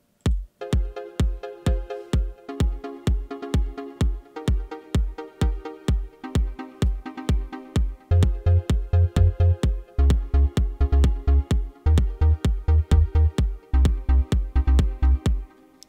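A looped electronic beat built in FL Studio drives steady kick hits under a repeating synth chord pattern, and about halfway through a deep, punchy bassline enters and locks in with the kicks, thickening the low end.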